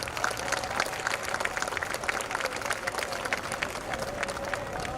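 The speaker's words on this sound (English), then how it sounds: "Please extend a huge round of applause for all the teachers." A school audience at an Independence Day celebration claps loudly and steadily for the teachers, with the crowded applause filling the whole stretch without letting up.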